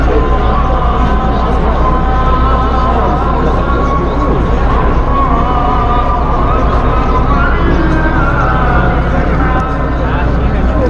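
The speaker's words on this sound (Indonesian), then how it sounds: "Itu suara sayup-sayup ya, takbir dari Masjidil Haram." Distant takbir chanting for Eid al-Fitr prayers drifts from Masjidil Haram in Mecca, faint beneath a steady rumble of idling traffic and crowd hubbub in a jammed street nearby.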